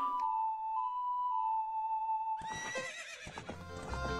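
Epona, the horse in The Legend of Zelda: Ocarina of Time, lets out a game-sound whinny after a sustained musical tone, followed by a burst of rhythmic hoof clops and game effects.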